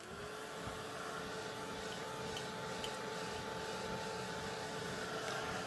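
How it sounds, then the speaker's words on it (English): A handheld dryer blowing onto faux leather, a faint, steady whooshing drone with a constant motor whine and no pauses. "then we'll give that a quick blast with the dryer"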